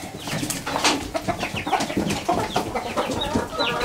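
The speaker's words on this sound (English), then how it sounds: "I think I need to sell off some of these laying hens. I've got too many chickens." Several laying hens cluck and squawk in a busy, continuous chorus, close by, with overlapping calls and a few higher-pitched squeals.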